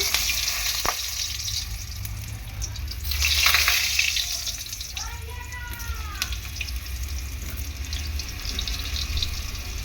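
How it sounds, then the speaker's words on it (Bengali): Potatoes fry in a pan before chicken is cooked with them, making a continuous close sizzle that swells briefly in the middle, with faint background clatter. "তো আলুটা ভেজে নেব।"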